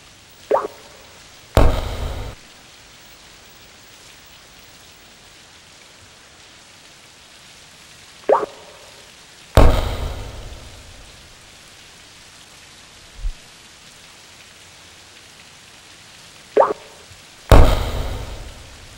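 Heavy raindrops striking a forest floor and leaves, landing as a few scattered, sharp drip impacts that stand out against near silence.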